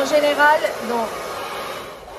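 A hair dryer blows steadily during an at-home salon blowout, a constant airy whoosh running under a woman's speech in French.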